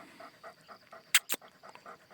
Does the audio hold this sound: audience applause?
no